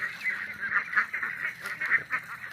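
Ducks of several breeds on a farm let out a run of nasal quacks and honks, overlapping calls from a flock at moderate distance, coming in uneven bursts.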